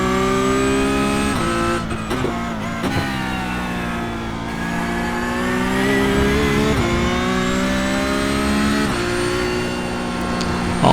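A Porsche Cup race car in iRacing at Road America accelerating out of a corner onto the straight, engine note climbing steadily through the gears with brief dips at shifts, loud and close, no talk.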